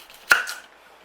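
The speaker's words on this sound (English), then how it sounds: "chop the ends off the carrots and we're going to peel them" A single sharp chop of a knife through the end of a carrot on a cutting board, close and crisp, with a short ring-off and no talk.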